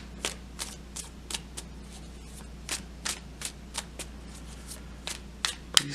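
Tarot cards are shuffled by hand, making a run of brisk, evenly spaced riffling bursts about twice a second, close and clear, ending in a sharper snap as a card is drawn.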